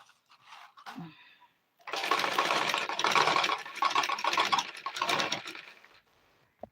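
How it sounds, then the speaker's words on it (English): A sewing machine top stitching the shoulder of a kids' dress, running in a few close bursts of rapid whirring with brief pauses between. "I'm going to go ahead and top stitch stitch on the shoulder area by 1/2 inch"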